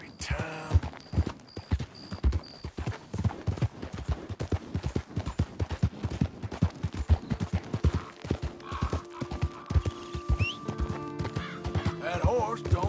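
Galloping horse hooves in Red Dead Redemption 2, a fast steady clip-clop close up and loud throughout, with a horse whinny and some game sounds layered in.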